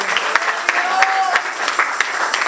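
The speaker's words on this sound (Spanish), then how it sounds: "Un aplauso a ese varón de Dios" Church congregation applauding at an evening youth service, steady clapping from a crowd with a few sharper claps standing out and a faint voice or tone briefly underneath.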